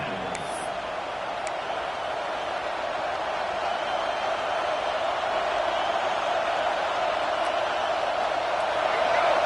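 A home crowd at a Texas A&M football stadium roars in a broad, sustained wash of noise that swells slightly as the defense faces third down.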